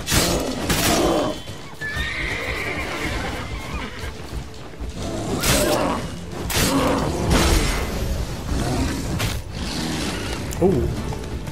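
In The Witcher 3: Blood and Wine, a horse whinnies and neighs repeatedly while a bear attacks it. The neighing sits under busy game effects, creaks and hoof clatter, with someone talking over much of it.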